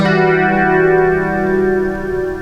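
Guitar played through a TC Electronic 3rd Dimension chorus pedal, a sustained chord shimmering with subtle chorus modulation and a faint flanger-like sweep, ringing out alone and slowly fading.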